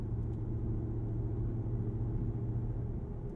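A 2021 Ford F-250 Super Duty Tremor's 7.3L V8 cruising smoothly, a low steady engine drone and road rumble from inside the cab, even and unvarying throughout.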